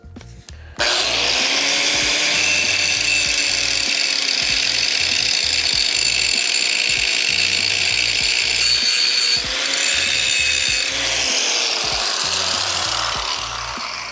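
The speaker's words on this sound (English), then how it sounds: "So now we just gotta grind this to make a nice kind of C-shaped face to meet this pipe." An angle grinder cuts a concave, C-shaped face into the end of a steel pipe, part of building an excavator tree shear. It makes a loud, steady high-pitched whine that holds for about thirteen seconds with a slight dip partway, and no one talks.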